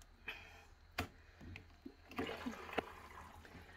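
A portable washing machine drains water out through its hose, giving gurgling, splashing flow with a few knocks and clunks, fairly close and with no voices.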